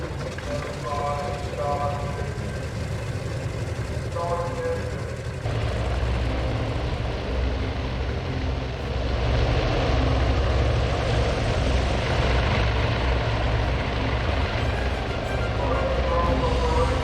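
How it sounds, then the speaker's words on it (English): Wildcat fighter planes launching from a carrier flight deck in the naval strategy game Task Force Admiral, a steady propeller engine drone that swells louder after the first few seconds under a music bed. "The time has come for our Wildcats to launch."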